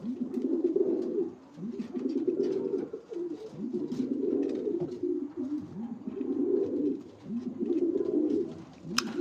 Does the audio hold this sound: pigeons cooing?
yes